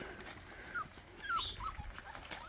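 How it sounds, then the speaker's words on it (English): Puppies whimper and yip outdoors in short, high, thin cries, some faint and some closer, scattered over a soft background hiss. "You got puppies on you. And puppies out here."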